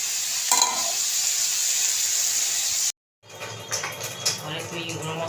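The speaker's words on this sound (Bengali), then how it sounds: "খিচুড়ি ফুটছে" Khichuri with cauliflower, carrot, potato and tomato bubbles and sizzles in a pot, a steady close hiss broken by a brief cut, then continuing with faint stirring clinks.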